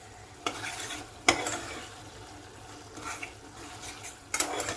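Egg curry being stirred in a pressure cooker pan, with soft sizzling under a few sharp clinks and scrapes of a spoon against the metal, close and fairly quiet with no talking.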